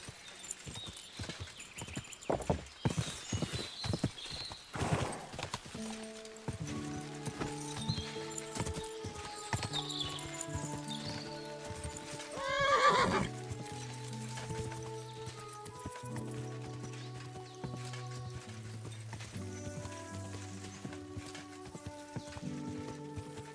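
Horse hooves clip-clop rapidly at first, then a horse whinnies amid soft background music and light patter, in the video game Kingdom Come: Deliverance 2.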